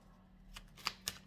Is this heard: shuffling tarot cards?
yes